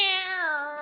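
A house cat gives a single drawn-out meow, clear and close, with a rich harmonic tone that slides slightly downward toward the end, heard alone with no talking.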